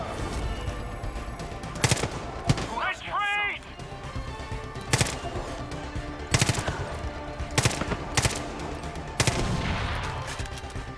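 Bursts of automatic gunfire and single loud shots ring out in the Far Cry 5 video game, spaced irregularly across the scene, with a brief whining tonal effect in between and a player talking over the action.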